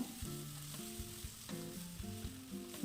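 Masala spices of turmeric, pepper powder and garam masala frying in a pan for Kozhikode-style irachi chatti pathiri, a faint sizzle under repeated scraping strokes of a spoon stirring at a steady rhythm, close and quiet, with no talking.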